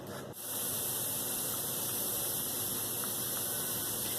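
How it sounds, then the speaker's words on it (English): Steam hisses out of a pipe in a kitchen while chicken is cooked, a steady loud broadband hiss that starts after a brief dip and continues evenly throughout. "You can see there is a steady stream of steam coming out that pipe."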